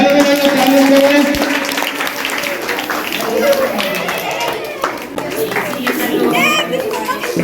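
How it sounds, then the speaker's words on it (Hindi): A school audience at a Teachers' Day celebration claps along, with scattered, uneven claps mixed into loud children's chatter and movement throughout. "संयुक्त रूप से ताली बजाइए, ताली बजाइए, ताली बजाइए।"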